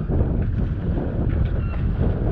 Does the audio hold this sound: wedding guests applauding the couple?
no